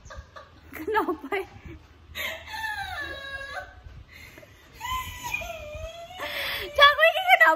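A rooster crows in a long, strained, wavering call, then again after a pause, over a noisy rural background. Another crow-like cry closes the stretch, and people talk between the calls.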